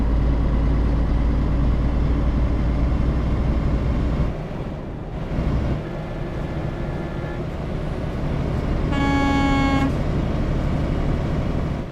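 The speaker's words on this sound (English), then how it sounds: "So I honk at him" A truck horn in Euro Truck Simulator 2 honks once in a short steady blast over a continuous rumbling engine and road noise.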